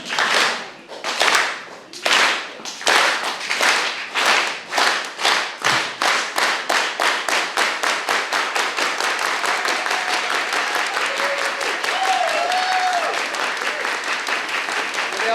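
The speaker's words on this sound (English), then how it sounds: "Let's start with a unity clap today," A crowd at a tenant protection announcement performs a unity clap: slow, loud synchronized claps that steadily speed up into a fast continuous roar of applause, with faint voices and whistles near the end.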